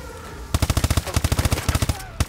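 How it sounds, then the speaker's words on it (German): An automatic weapon fires rapid, evenly spaced bursts in Call of Duty Advanced Warfare, loud and close, with a brief pause mid-stream and a final shot at the end. "Auf jeden Fall schießt die Waffe."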